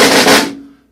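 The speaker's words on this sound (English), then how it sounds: "You're going to get a buzz roll that sounds like this." A snare drum buzz roll played with separated buzzes that do not overlap, giving a choppy, grainy burst of about half a second that then decays quickly, close and loud.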